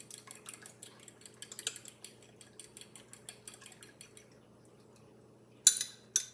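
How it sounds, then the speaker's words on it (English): A utensil beats ingredients in a bowl for a strawberry cake mix, making quick, even clicking taps close by for about four seconds. The tapping then stops into quiet before a brief louder clatter. "I'm going to slightly beat those up before I put them in my cake mix"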